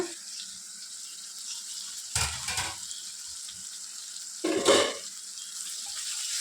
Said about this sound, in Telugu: ఇప్పుడు ఒక రెండు మూడు నిమిషాల వరకు బాగా ఫ్రై చేసుకోవాలి